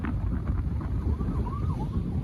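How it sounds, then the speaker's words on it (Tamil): An ambulance siren passes through a town at night in the rain, its faint, wavering wail rising and falling for about a second under steady wind and rumbling background noise. "இவ்வளவு ஆம்புலன்ஸ் போறீங்க."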